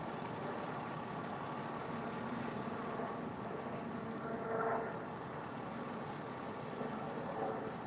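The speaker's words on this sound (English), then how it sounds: "It's a medical helicopter, not a fire helicopter." A medical helicopter's steady, broad rotor drone hangs overhead at a distance, fairly faint and unchanging, with a slight swell midway through.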